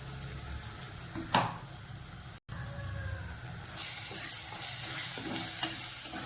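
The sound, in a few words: onion masala frying and stirring in pan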